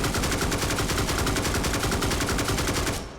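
Sustained rapid automatic gunfire in the Forefront VR video game, a loud, dense, evenly spaced stream of shots running without pause before cutting off at the end.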